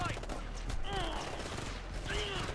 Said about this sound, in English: Taking under heavy fire right now